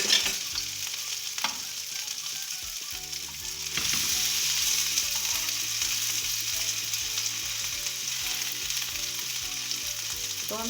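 Beef chapli kebabs fry in oil over a slow flame, giving a steady close sizzle that swells a little partway through, with a few soft clinks from turning the patties and no voices.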